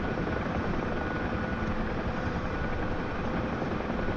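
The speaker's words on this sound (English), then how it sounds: "And this is the helicopter getting a bit out of control." A Huey helicopter in a flight video game gives a dense, continuous rotor and engine roar at steady loudness, with no talk.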